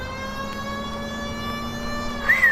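A police car siren in the L.A. Noire video game, a steady sustained wail heard continuously and fairly loud over engine rumble, with a brief rising whoop near the end.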